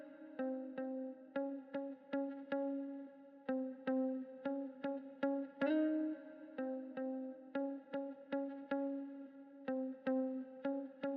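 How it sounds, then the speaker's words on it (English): A lead electric guitar, one of four in a full mix and treated with basic EQ and effects, plays alone in a clean, chorused tone, picking a steady series of sharply attacked notes with short pauses between phrases. "So here on guitar lead number 3, just some basic EQ going on."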